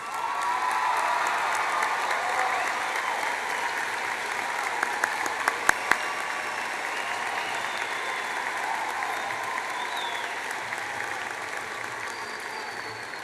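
Auditorium audience at a high school graduation applauding the parents of the class of 2010, sustained even clapping from a large crowd lasting well over ten seconds, with a few brief louder claps in the middle.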